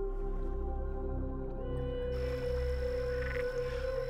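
A Cuban tree frog croaks with a steady, rhythmic low pulsing call that carries through the whole stretch. Other frog voices and a humid night chorus stay faint behind it.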